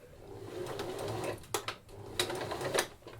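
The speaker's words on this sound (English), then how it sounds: "Go to the sewing machine" A sewing machine stitches fabric with a 3mm stitch length in short bursts, its needle chattering rapidly with brief pauses between runs, close and fairly loud.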